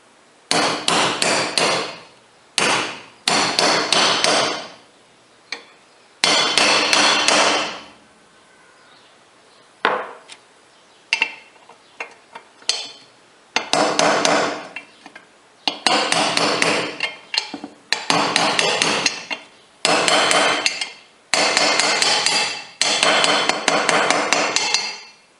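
Repeated bursts of hammer blows drive a bearing into a Puch 4-speed motorcycle engine case, struck in quick rhythmic clusters with short pauses between, loud and close with no talking.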